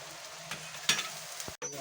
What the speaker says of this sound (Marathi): परतून घेऊया आपण.